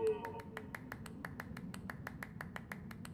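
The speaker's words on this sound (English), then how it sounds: "I did it! He claps for me." Steady run of about fifteen crisp claps from a character in the video game Death's Door, evenly spaced and fairly quick over soft background music.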